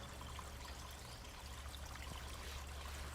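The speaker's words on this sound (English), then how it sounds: "Faint sound of water passing through." Faint trickle of clean spring water running weakly in a dry spell, a soft continuous dribble under low background hiss with no voices.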